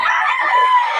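A Golden Boy bloodline pumpkin sweater gamefowl rooster at Bocaue crows once, loud and close, a strained, ringing call that fills the whole brief moment.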